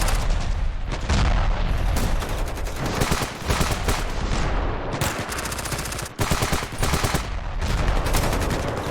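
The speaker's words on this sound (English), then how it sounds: "they definitely spam grenades and rockets a lot" Dense, loud stretch of Ravenfield video game combat, with rapid gunfire and repeated grenade and rocket explosions booming almost without pause over about nine seconds.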